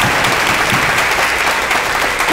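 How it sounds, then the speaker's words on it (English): Audience applause for a boys choir at an award event, a loud, dense, continuous roar of many hands clapping close by, with no speech over it. "I want to give another round of applause for Ms. Diggs and the boys choir"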